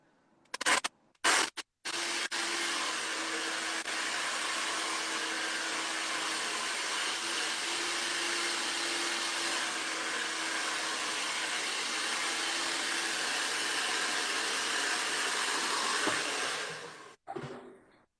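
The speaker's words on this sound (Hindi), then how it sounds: "बट ये प्रोफेशनल ड्रायर है तो ज्यादा अच्छा रिजल्ट आता है" A professional hair dryer blow-drying hair gives a steady, loud airy roar that holds for about fifteen seconds after a few brief clicks, then cuts off.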